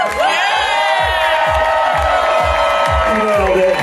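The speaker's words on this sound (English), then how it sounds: "Let's give a big round of applause for her." A crowd cheers, whoops and claps at an event in San Francisco, loud and continuous, with a rhythmic clap-along beat running through the noise.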